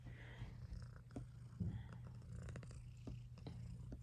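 A cat purrs close by in a soft, steady low rumble that runs through the whole stretch, with faint background noises.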